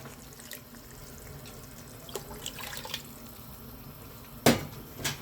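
Tamarind water poured into a pan for a South Indian okra tamarind curry, a soft continuous liquid trickle, fairly faint, with a few sharper splashes and clinks near the end.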